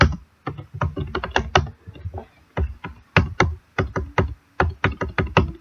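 Someone types a name on a computer keyboard, a close, crisp run of key taps in quick bursts with short pauses between them.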